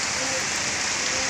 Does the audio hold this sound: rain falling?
yes